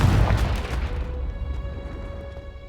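A Confringo spell blast goes off in Hogwarts Legacy, a deep booming explosion that hits at once and then rumbles away over a couple of seconds.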